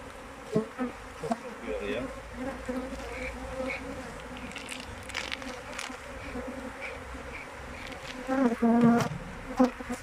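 Honeybees buzzing steadily around a beehive outdoors, a dense continuous drone that swells louder near the end, with a few brief thumps and rustles.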